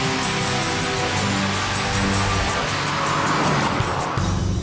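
A 2005 Pontiac GTO drives with a loud, continuous exhaust roar, a dense engine drone that holds steady throughout with a slight rise near the end.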